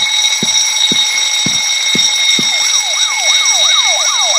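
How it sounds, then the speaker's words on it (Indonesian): An alarm blares in the video game Thief Simulator during a supermarket burglary: steady high electronic tones with rhythmic low thumps, then a rising and falling siren wail joining in, loud and continuous with no talk. "ada alarm dong."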